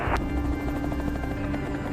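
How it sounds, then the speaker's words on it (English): A helicopter lifts the wreck of a crashed airliner, Flight 508, over dense Amazon jungle, its steady rotor drone close and continuous with a sharp burst near the start. "Test lift confirms the helicopter can bear Flight 508's weight."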